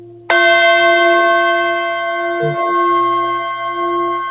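A single bell tuned to the heart chakra is struck once and rings with a clear, pure tone, its long sustain hanging on and slowly fading, with a faint brief murmur partway through.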